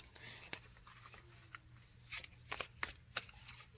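Tarot cards being shuffled by hand: a series of short papery riffles and slaps, close and fairly quiet, in bursts over a low steady hum.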